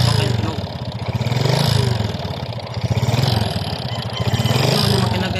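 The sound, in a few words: Honda XRM 125 motorcycle engine running with piston slap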